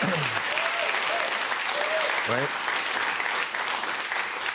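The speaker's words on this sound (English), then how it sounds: "an audience of other old people that are like clapping for this" Steady applause from an audience fills the clip, dense and continuous, with a brief voice cutting through early on.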